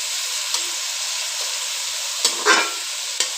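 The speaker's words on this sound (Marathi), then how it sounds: "तर छान असा आपण कांदा परतून घेऊया याने." Chopped onion sautés in oil in a large wok (kadhai), giving a steady hiss with a few scraping stirs of the spoon against the metal, close by with no talk.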